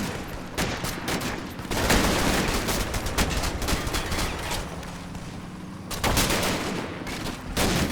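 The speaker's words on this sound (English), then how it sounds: "The MG42 is really carving up squads." MG42 machine gun bursts and 60mm mortar fire in the Combat Mission: Battle for Normandy wargame. The battle is loud and continuous, with rapid rattling volleys and heavier impacts layered together and brief pauses between bursts.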